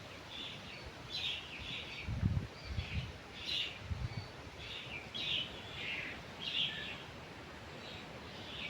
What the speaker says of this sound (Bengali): বাগানের ভিতরে অনেকগুলো পাখি কিচিমিচি করছে